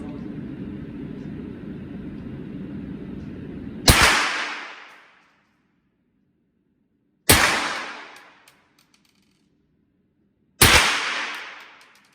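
Three sharp rifle shots fired one at a time several seconds apart, each a loud crack with a decaying echo, after steady low background rumble; a rifle fitted with a Vortex Spitfire HD Gen II 5x prism scope.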